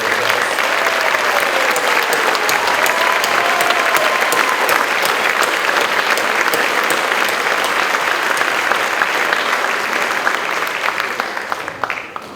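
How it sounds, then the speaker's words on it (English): An audience at an honors scholarship awards ceremony claps loudly and continuously, a dense, close wall of applause that holds steady before tapering off at the very end. "Can you give one a round of applause?"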